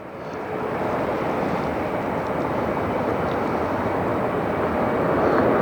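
Old Airbus airliner landing at Detroit Metro airport, a broad steady roar of engines and rushing air that swells in within the first second and holds constant, heard from a distance without speech.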